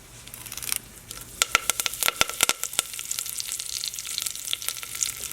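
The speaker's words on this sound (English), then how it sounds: "Once the oil is hot, add half teaspoon of mustard seeds." Mustard seeds and curry leaves frying in hot oil, a steady close sizzle with sharp popping crackles scattered throughout and bursting most densely in the middle.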